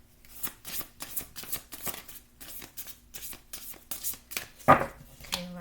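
Tarot cards are shuffled by hand up close as a rapid run of crisp riffling flutters, ending in a sharper slap of the deck with a brief low thud, with no talk.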